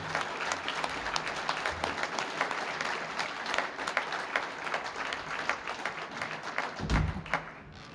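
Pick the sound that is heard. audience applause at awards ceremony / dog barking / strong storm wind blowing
audience applause at awards ceremony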